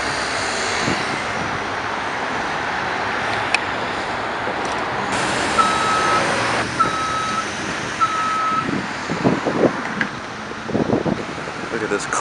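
An old Grumman step van truck, a 1980s six-cylinder with standard transmission, drives along a Montreal street, its engine and traffic noise steady throughout with a reversing beeper chirping three times midway and a voice talking briefly.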